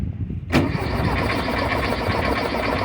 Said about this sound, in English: You want me to run it back at the carburetor until it starts?